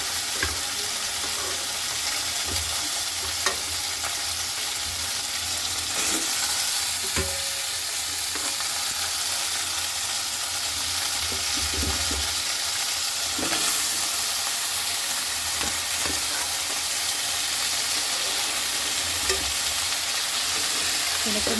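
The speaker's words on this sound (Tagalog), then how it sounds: "dito, gigisa." Chicken feet sautéing in a pan, a steady close sizzle and crackle with occasional stirring scrapes running throughout, no talking.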